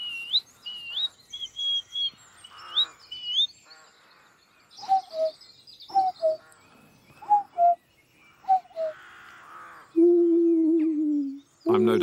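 A man imitates bird calls with his voice, giving a run of whistled chirps and warbles, then short paired hoots, and finally a long, low, sustained cooing note, all close and clear with pauses in between.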